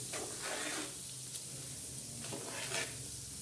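Pickle masala being stirred and roasted in a pan, a soft continuous sizzle with intermittent scraping strokes of the stirring spoon, close and fairly quiet.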